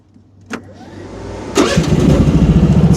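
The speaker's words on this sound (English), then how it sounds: "let's start the machine again" A Rippa R10 mini excavator engine cranks with a brief starter whir, then catches and settles into a steady, pulsing mid-pitched idle close by.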